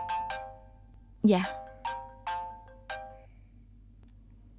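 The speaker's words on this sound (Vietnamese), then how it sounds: "Điện thoại của con" A mobile phone ringtone plays a bright, repeating chime in a Vietnamese drama scene, with several evenly spaced tones in a quiet room. A short spoken reply is heard partway through.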